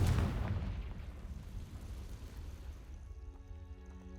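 A Confringo fire spell from Hogwarts Legacy bursting with a loud, deep boom at the start, then a rumble fading away over several seconds as faint ringing tones come in at the end.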